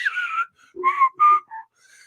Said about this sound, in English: I was already whistling a tune